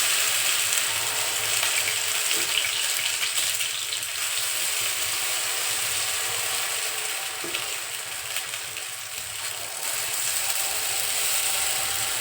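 Rava and malai appe made with curd cook in an appe pan over a low flame, giving a steady, soft sizzle and crackle that carries on without break and with no voices.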